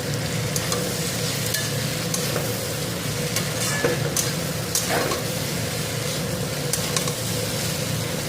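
Fried fish being stirred in a sizzling pan, a steady loud hiss of frying with scraping stirs and occasional clinks of the utensil against the pan throughout, no voices.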